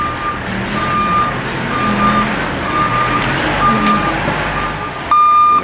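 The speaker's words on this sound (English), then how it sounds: "Gonna drag it out with this forklift." A forklift's reversing alarm beeps steadily in repeated bursts while it drags an old car out of a classic car junkyard, the beeps sounding over a loud, continuous engine and machinery rumble.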